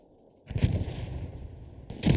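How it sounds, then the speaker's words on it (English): A grenade explodes in the World War II shooter Hell Let Loose during a competitive esports match: a sharp, loud blast with a rumbling, decaying tail, followed by another close, heavy burst of gunfire or explosion. "can he get the nade to land onto Chubby?"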